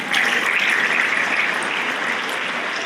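Steady, dense applause from an audience fills a school spring awards assembly, holding at an even level without any talk.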